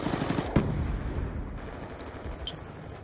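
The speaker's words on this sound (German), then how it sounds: "Irgendjemand schießt hier in die Mitte." Gunfire in Call of Duty: Black Ops II during an online match, a quick burst of automatic shots at the start fading into a faint, distant rattle of fire.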